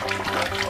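Running water splashing steadily over a muddy toy being washed, a continuous close, loud gush with no pauses.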